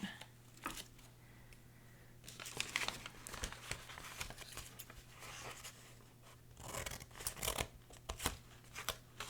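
An old paper book cover is cut off with scissors, heard as close, soft snipping and crinkling paper in irregular bursts over a quiet background hum.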